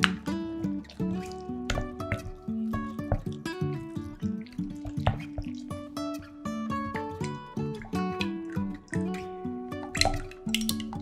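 A spoon stirs a mixture of vanilla essence, condensed milk and liquid gelatin, making close, thick squelches and soft, irregular clinks against the bowl under gentle background music.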